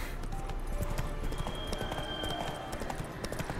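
Geralt's horse Roach running in The Witcher 3: a steady, fast rhythmic clip-clop of hooves close by, continuing throughout with game ambience underneath.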